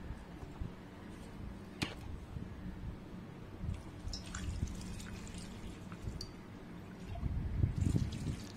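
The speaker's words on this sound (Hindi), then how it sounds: "अब जो है मैं इसमें नींबू पानी डाल दूंगा।" Lemon juice poured over cut lemons for a lemon, ginger and garlic pickle, heard as soft, close trickling and dripping with a few wet squishes and a fuller pour near the end.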